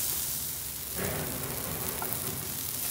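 Onion, tomato and masala sautéing in a pan give a steady broadband sizzle that grows louder about a third of the way in. The sizzle is continuous and close, with no voices.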